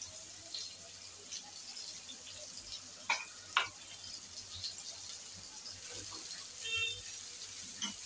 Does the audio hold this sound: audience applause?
no